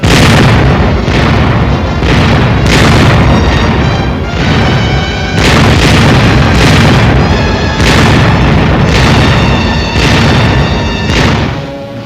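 Artillery fire and explosions boom continuously in wartime battle footage from the New Guinea campaign, a loud, dense barrage of repeated blasts and rumbling impacts with no pause throughout.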